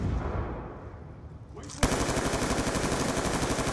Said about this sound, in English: Oh, crap, that's a sentry gun.